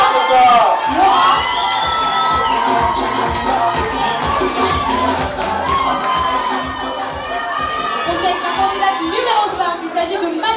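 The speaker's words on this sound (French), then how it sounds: "On l'applaudit très fort." A crowd at the Miss East Africa 2015 beauty pageant cheers, shouts and whoops loudly and continuously for a contestant, a dense, energetic roar with music mixed in underneath.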